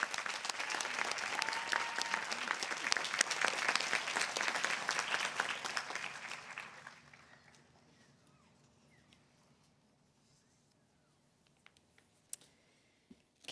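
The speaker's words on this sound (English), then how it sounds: "And let's applaud these alumni" Dense crowd applause for alumni at a university commencement ceremony, loud and sustained for about seven seconds before fading to quiet room tone with a few scattered claps.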